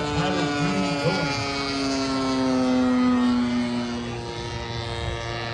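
Radio-controlled Seagull Models P-47 Razorback airplane with an EME 70 twin engine flying overhead at a model airfield, a loud, sustained droning engine whose pitch slowly shifts as it passes, with faint voices at moments.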